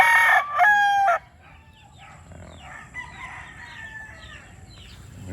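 A fighting gamecock crows loudly and close in one long, strained call near the start, followed by quieter clucking and distant bird calls in the background.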